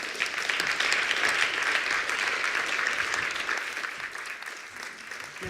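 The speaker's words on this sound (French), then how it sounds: "Je vous demande de faire un tonnerre d'applaudissements pour Sophia Demeyer." A lecture audience at a university entrepreneurship and innovation hub launch applauds a speaker, a dense, sustained wash of clapping that holds steady for about five seconds and eases slightly near the end.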